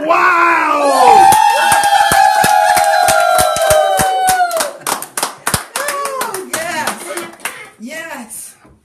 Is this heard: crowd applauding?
yes